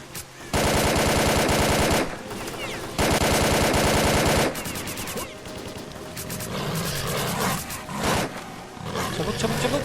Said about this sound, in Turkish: we're taking heavy fire from an unidentified enemy